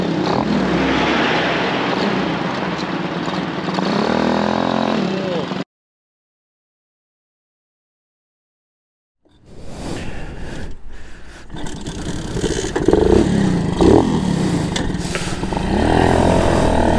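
Suzuki GAG motorcycle engine revving and running through gear changes up to third gear, loud and close, cutting out briefly to silence before returning rougher with scraping mechanical noise.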